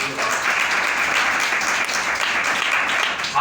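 A church congregation breaks into loud, sustained applause for Jesus during a pastor's sermon on sin, a dense clapping roar that fills the whole stretch without a break.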